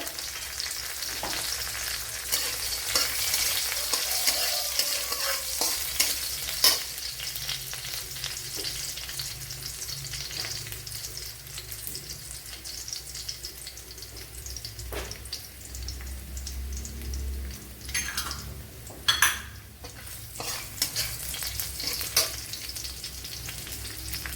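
Green chillies and ginger fry in a pan for Kerala-style broken wheat upma, a steady close sizzle broken by repeated scrapes and clinks of a spoon stirring, with a brief louder splash-like burst late on.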